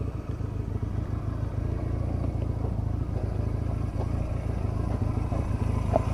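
A motorcycle engine idles steadily with a low, rumbling drone and a faint clatter, holding a constant level throughout.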